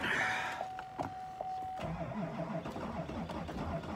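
A diesel car with two or three burnt-out glow plugs cranks on a cold start, a steady starter whine giving way to rough, uneven engine turning, close and fairly loud with no talking.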